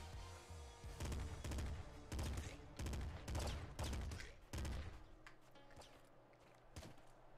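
Pop gun shots in the video game Nuclear Throne, fired in a quick run of about eight punchy, evenly spaced bursts that then thin out to a low hum with a few faint knocks.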